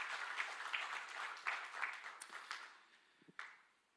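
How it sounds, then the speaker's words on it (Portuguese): A church congregation claps in steady applause, the sound gradually fading out toward the end, with no voices over it. "Aplauda o Senhor mais uma vez,"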